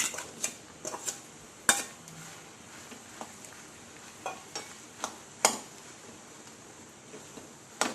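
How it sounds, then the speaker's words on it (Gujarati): Boiled potatoes being stirred into sautéed onions in a pan, with a quiet background sizzle broken by scattered scraping and clinking knocks of a spoon against the pan, loudest near the start and middle. "આવી રીતે એને મિક્સ કરી લેવાના"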